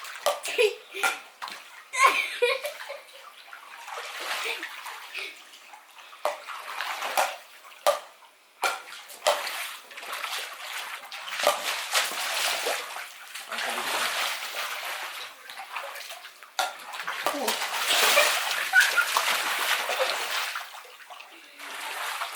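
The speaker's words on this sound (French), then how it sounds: "petit à petit, elle est en train de se remplir la piscine" Water pouring into a paddling pool as it slowly fills, a steady splashing hiss with sloshes and intermittent splashes, close and moderately loud, while children and adults chatter and shout over it.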